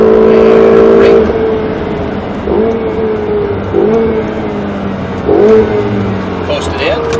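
A Ferrari 488 GTB on the SpeedVegas race track, its engine revving loud and close and climbing through gear shifts in repeated surges, with an instructor's voice talking over it.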